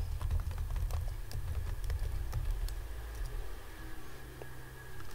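Rapid, light clicks of fingers typing an email address on a computer keyboard, close and steady over a low background hum.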